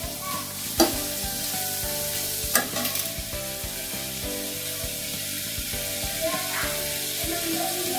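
Onion and garlic sautéing in a pan for restaurant-style dal khichdi, a loud continuous sizzle with a few sharp clanks of a spoon stirring against the pan, close up.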